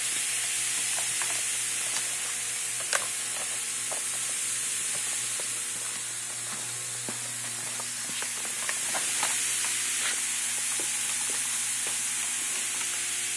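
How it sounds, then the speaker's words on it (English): Steady fizzing sizzle of acid reacting with baking soda, close up, with crackly pops scattered through a continuous hiss; no voices. "Hey, let's listen to the sizzle."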